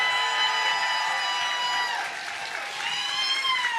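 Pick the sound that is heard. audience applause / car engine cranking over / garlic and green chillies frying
audience applause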